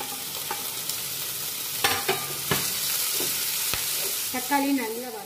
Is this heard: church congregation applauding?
no